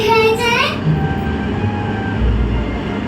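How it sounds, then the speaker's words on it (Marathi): Animated cartoon train rolling past with a rumbling rail sound and a brief whistle-like tone at the start, under a voice speaking. "मला ट्रेन दिसते"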